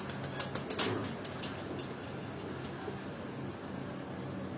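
Pigeons kept in a rooftop loft, a pearl-marked pigeon among them, make soft low cooing and faint rustling against a steady outdoor hum, with a few brief sharper sounds near the start.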